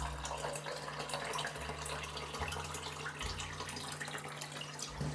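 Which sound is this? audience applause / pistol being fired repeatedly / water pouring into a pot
water pouring into a pot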